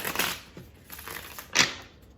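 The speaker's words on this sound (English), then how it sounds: "Let me shuffle here." Tarot cards being shuffled by hand at close range, heard as three short papery riffling bursts with brief quiet gaps between them and no talking.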